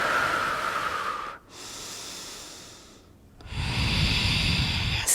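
Deep, loud breaths during a sculpt workout, a long hissing inhale, a pause, a softer breath, then a heavy forceful exhale, close to the mic with no speech.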